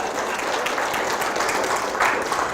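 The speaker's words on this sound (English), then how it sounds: "you can clap if you want to" An audience claps at a mission report talk, a steady, moderately loud patter of many hands that swells briefly near the end.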